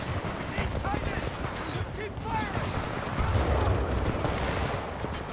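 Dense, continuous gunfire from Titanfall 2 gameplay, rapid shots blending into a sustained roar under a busy mix of game sounds, with brief tonal effects and no clear pauses.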